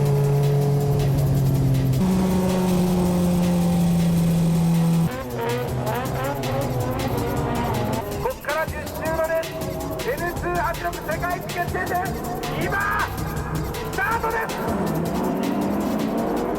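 Toyota AE86 Hachi-Roku race cars, including a TRD car, launch from the grid at Tsukuba, engines droning high, then rising through gear changes with tire squeal as the pack gets away, under a commentator's voice.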